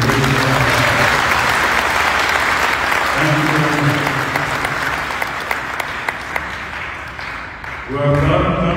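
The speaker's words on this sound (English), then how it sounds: "Let's give it a round of applause to Kim Marianas" Loud, sustained round of applause from a crowd at the Team Marianas send-off ceremony for the 2025 Palau Pacific Mini Games, fading toward the end before someone speaks briefly over the last of the clapping.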